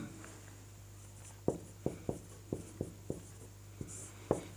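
A Sanskrit word is written out during a lesson as a series of about nine short, faint strokes and taps in quick succession, each one close and crisp, with a low steady hum behind them.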